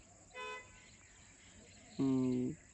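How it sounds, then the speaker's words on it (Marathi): A distant car horn sounds twice, a short faint toot followed by a longer, louder honk, over a quiet evening background of insect chirping on a farm. "कोणतरी गाडीचा हॉर्न वाजवतही असं वाटतंय मला वाजवतंय कोणतरी येते ऐकायला"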